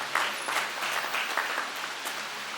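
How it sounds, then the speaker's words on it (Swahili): A graduation ceremony audience claps together in a fairly soft, sustained round of applause with scattered sharper claps, heard from some distance in a large space. "Tuwapigie makofi mengi sana na pongezi nyingi."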